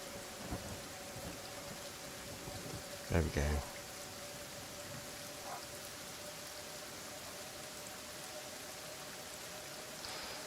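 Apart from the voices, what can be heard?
acid rain and thunder in the video game Kenshi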